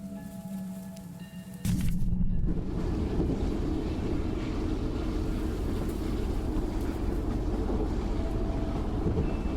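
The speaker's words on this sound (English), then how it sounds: "I'm aware that it's the train itself" A train rolling along in the video game Choo Choo Charles, a steady loud rumbling drone that swells abruptly after a quieter start and then holds constant with a rushing, wind-like texture.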